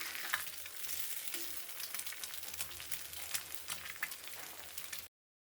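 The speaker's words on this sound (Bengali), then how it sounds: "আর এখন ডিম পোচ করে নিচ্ছি" Eggs poaching in a pan give a continuous close crackling sizzle with small pops that runs steadily for about five seconds and then cuts off.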